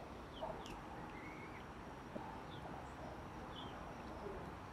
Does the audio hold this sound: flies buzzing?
no